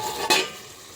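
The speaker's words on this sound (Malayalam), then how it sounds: "ഒരു 20 പച്ചമുളക് ഈ എണ്ണയിലേക്ക് ഇട്ട് കൊടുക്കുവാണ്." Green chillies dropped into hot oil for a chilli pickle set off a sudden loud burst of sizzling that quickly settles into a softer, steady hiss, with no speech.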